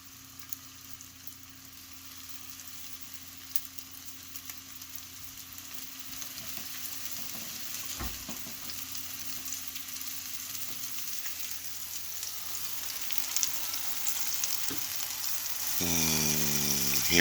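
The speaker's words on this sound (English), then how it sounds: "Hear the sizzle?" Meatballs sizzle while frying in a pan, a soft steady crackle that slowly grows louder, with occasional clinks of a utensil turning them and a brief scrape near the end.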